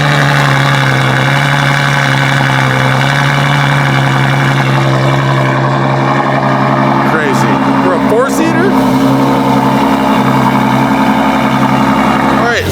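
A V12 car engine idles steadily while warming up, a loud constant low rumble that runs throughout as people talk over it.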